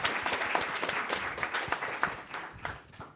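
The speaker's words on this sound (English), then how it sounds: "Give her a big round of applause." An audience applauds a panelist at a grassroots historic preservation panel discussion, a dense, steady wash of many hands clapping for about three seconds, close and fairly loud.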